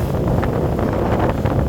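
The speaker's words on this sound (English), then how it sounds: "I had this fucking headwind" A strong headwind buffets the microphone of someone out on a walk, producing a loud, continuous low rumble with uneven gusting surges and no voices.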